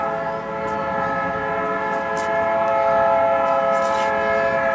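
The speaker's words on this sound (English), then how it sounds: "whoever the driver is of that engine loves the whistle" A train engine's whistle blows one long, loud, steady multi-tone blast with a slight swell in volume, over a faint rumble of the rail line.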